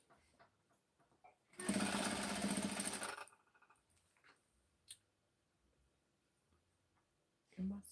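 A domestic sewing machine runs in one steady, loud burst of about a second and a half while fabric is pulled through, then stops; quieter handling clicks and faint noise follow.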